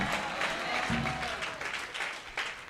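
A church congregation at a lively worship service applauds and acclaims in a dense wash of clapping and voices, with a voice rising over the crowd at moments.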